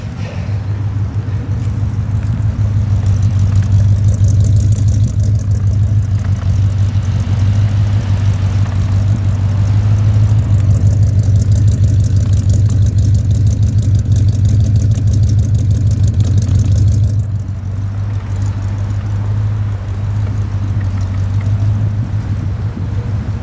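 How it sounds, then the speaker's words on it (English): A 1967 Cadillac Eldorado engine idles steadily and smoothly, a loud, continuous low rumble that holds even for about seventeen seconds before easing slightly quieter, with no talk over it. "Engine just purrs."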